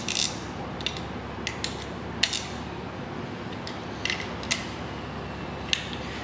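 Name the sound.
ratchet tightening bolts on Ford 302 timing cover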